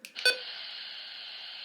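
A Midland HH54 VP weather radio, version 15, gives a short beep as a button is pressed, then a steady electronic tone holds for over a second before another brief blip at the end.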